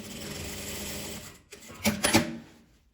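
A sewing machine stitches with a drinking straw serving as a guide foot, running in a steady close whir for over a second, pausing, then giving a few quick louder bursts of stitching that stop, with no speech.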